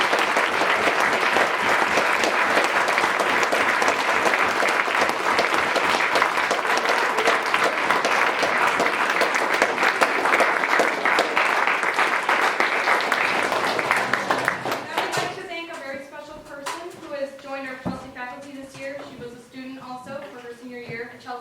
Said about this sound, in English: So I would just like to give a huge round of applause to Mr.